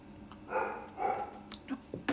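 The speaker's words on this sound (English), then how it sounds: "She's just making noise to make noise. She's still a puppy." A young puppy gives two short, high, nasal whines in quick succession, followed by fainter yips and snuffles, all fairly close in a quiet indoor room.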